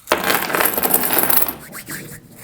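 Coins from a broken piggy bank clatter and clink in a dense, jingling burst as they are poured out, then settle into a few scattered rattles.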